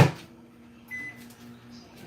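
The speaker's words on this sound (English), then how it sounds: "I'm pop it in the microwave for about 30 seconds or till it melts almost just about all the way through." A microwave oven melting butter for garlic knots: a door clunk at the start, then a low steady hum with a faint electrical tone and a soft click partway through.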